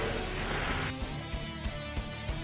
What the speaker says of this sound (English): I just spray right on the end of it